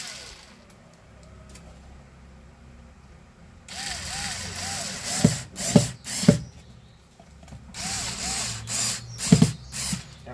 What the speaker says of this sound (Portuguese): agora a gente pode usar a parafusadeira